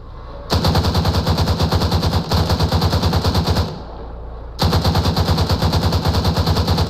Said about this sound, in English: I'm firing at fucking workers.